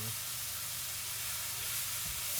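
Pork tenderloin with coffee browning in a hot pan, a constant close hissing sizzle that swells slightly toward the end, with no speech.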